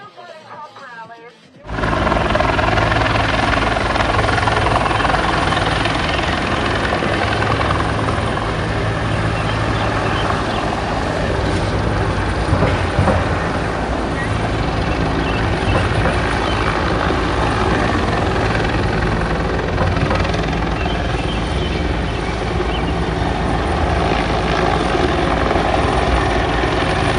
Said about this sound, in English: You see the helicopter right above me?